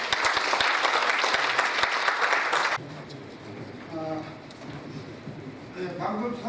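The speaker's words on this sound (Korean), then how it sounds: "석동현 사무처장님을 큰 박수로 모시겠습니다." An indoor audience claps loudly in welcome for an introduced speaker at a Korean unification policy lecture, a dense burst that stops abruptly partway through, followed by quiet room tone and faint talk.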